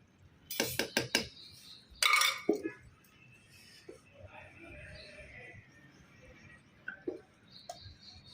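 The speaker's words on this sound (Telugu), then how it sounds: "నేను ఇంక దింపేస్తాను తీసేసి గిన్నెలో మార్చుకుంటానండి" Metal utensils clatter and scrape against a bowl in a few quick bursts as cooked urad dal is moved off a husk-fired stove into a bowl, followed by quieter clinks and some soft talking.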